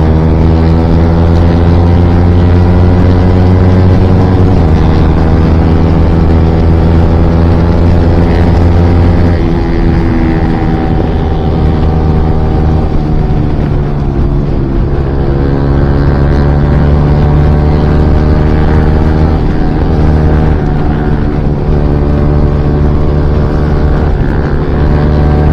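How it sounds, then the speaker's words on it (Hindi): A motorcycle fitted with an Akrapovic aftermarket exhaust cruises along a highway, its steady engine drone holding a constant pitch with a slight gear change partway through, loud and close with wind noise, no talking. "इसने भी एक्रापोलिक का एग्जॉस्ट लगाया है बंदे ने"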